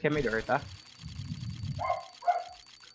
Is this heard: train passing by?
no